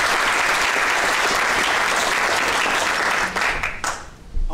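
A large crowd claps at a military graduation ceremony at Fort Lee, Virginia, loud, dense, sustained applause that fills the space and tapers off abruptly near the end.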